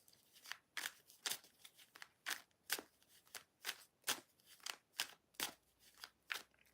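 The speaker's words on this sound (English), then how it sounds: "I'm going to pull out a few cards, see what the feeling's like." A deck of tarot cards is shuffled by hand in a rapid series of crisp riffling bursts, close and fairly quiet, with no voices.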